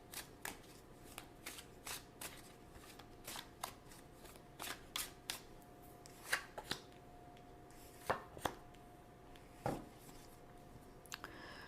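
Tarot cards are shuffled and drawn in a quiet room, giving a steady series of soft riffling and snapping bursts that grow sharper toward the end, with no talking.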